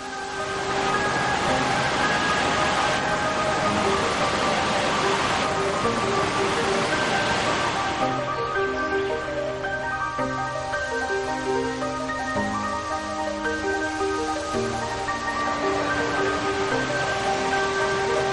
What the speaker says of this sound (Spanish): el agua cae allí en masa formando una cortina